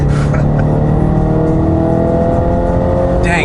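The engine of a 2013 Audi RS5 revs loud and close, holding a steady high-pitched roar, then a brief burst of noise at the end.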